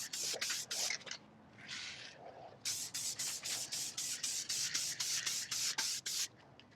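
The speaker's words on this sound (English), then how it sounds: "And to get a gloss finish, I apply 2 coats of a gloss clear enamel spray." Gloss clear enamel spray goes onto a 3D printed helmet in rapid short hissing bursts. After a pause, a long run of a dozen quick even spurts follows, close and crisp.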